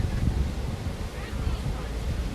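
Strong gusty wind buffeting the microphone in a low, steady roar, with a hint of surf or speech faintly underneath.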